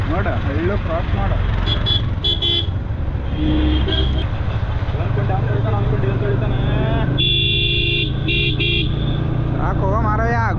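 Horn blasts from vehicles on a wet monsoon mountain road up to Lohagad Fort, several sharp honks in bursts over steady engine and wind noise, with people talking throughout.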